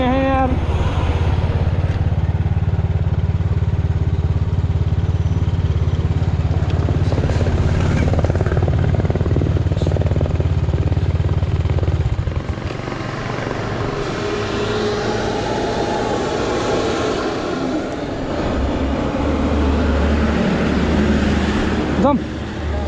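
A rough-running motorcycle engine drones loudly and continuously on a ride toward Kathmandu, then the note drops and thins partway through, with people talking over the engine.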